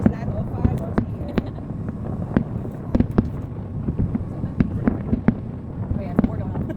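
New Year fireworks bursting all around, with repeated sharp cracks and pops at irregular intervals, some near and some farther off, over a steady background rumble.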